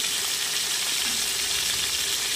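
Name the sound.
sliced pointed gourd (potol) sizzling in hot oil in a wok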